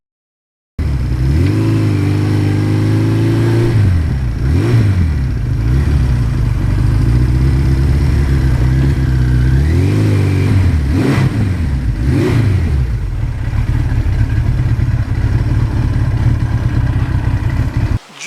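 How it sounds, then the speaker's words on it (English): A 1982 Suzuki GS1100E motorcycle engine drones steadily while riding, loud and close, with repeated rises and drops in revs as it shifts and accelerates, wind noise throughout. "riding around on a comfortable, iconic, powerful bike that gets good mileage"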